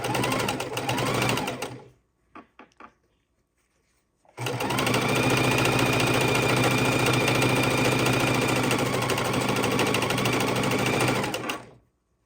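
A sewing machine stitches jelly roll strips for a quilt, a few brief bursts giving way to a long, steady, close mechanical whirr that stops abruptly.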